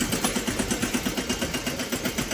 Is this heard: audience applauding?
no